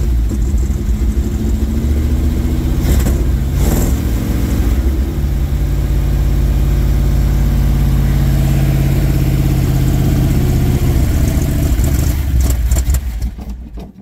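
An old Chevrolet squarebody pickup truck, parked for 19 years, runs with a steady, loud low engine drone that briefly stumbles and rises early, then holds a rough idle before cutting out at the end.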